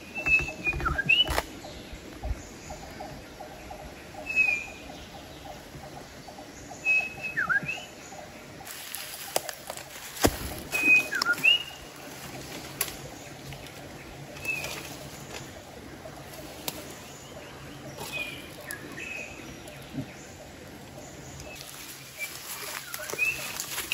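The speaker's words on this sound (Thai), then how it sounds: "นกนี่ก็ตอบตลอดเลย" Scattered bird chirps and short whistled calls ring out across a quiet outdoor space, some near and some farther off, with faint rustling between them.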